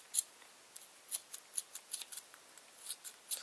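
Close, crisp scissor snips cut through yarn loops while a puffy yarn bunny is shaped, coming as a quick, irregular series of sharp clicks with short gaps and no talking.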